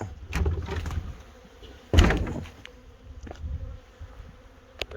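A honey bee swarm buzzes loudly and continuously inside a bee shed, with a sharp door-like bang partway through and a few clicks over the humming drone.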